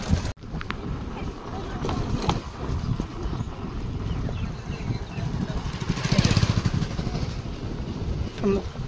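A Sonalika tractor engine runs with a steady, rough low rumble throughout, with a louder surge near the end, partly under wind noise and background voices.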